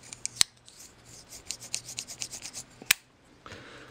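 Gritty scraping and rubbing of a rusted lockback on a Spyderco Ladybug knife in H1 steel, stiff after a salt water soak, worked back and forth with a few sharp clicks, close and fairly quiet.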